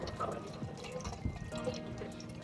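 A pearl is rinsed in fresh water, with faint, close trickling and small drips and splashes.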